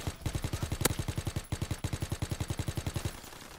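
A Type 100 submachine gun fires in Call of Duty WWII during a prop hunt match, a fast, steady stream of evenly spaced shots over several seconds with a brief break midway, close and punchy.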